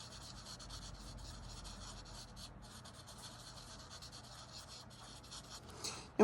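Colored pencil scrubs on paper while shading, a soft, faint, continuous rubbing scratch close by, steady for several seconds.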